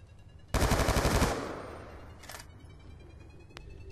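A close burst of rapid machine gun fire in Black Ops 2 rattles for under a second, then fades into a quieter distant burst and a lone later shot.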